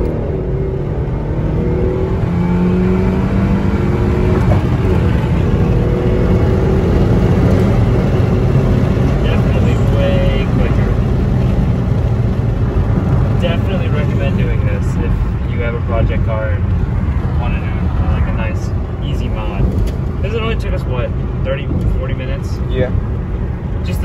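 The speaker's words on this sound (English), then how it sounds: "Let's go for a test drive. So we're driving it." A Mazda 3 fitted with a short shifter out on a test drive, steady engine drone and road noise running throughout with someone talking over it.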